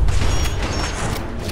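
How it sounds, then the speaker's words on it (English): An explosion in Fallout 4 booms loud and close, a dense, rumbling blast with crackling debris that carries on through the whole moment, with no voices. "there goes everything exploding again"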